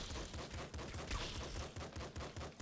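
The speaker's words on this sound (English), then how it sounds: "And just start shooting boys." Rapid gunfire from the top-down shooter Nuclear Throne, a steady stream of punchy shots with some bursts running together, loud and continuous with no talking.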